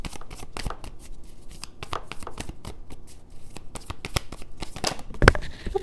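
Tarot cards are handled and one is drawn from the deck, giving soft, rapid papery flicks and shuffling clicks close by, with a sharper snap near the end.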